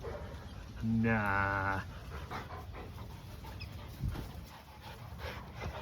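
Two Kelpie dogs pant and whimper outdoors in cold wind, with a short high whining yelp near the start followed by rapid breathy panting; a person briefly speaks.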